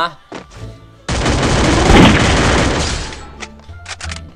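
Gunfire in the Free Fire battle royale game, a sustained loud burst of shots lasting about two seconds, bracketed by a few sharper single cracks and someone talking briefly before and after.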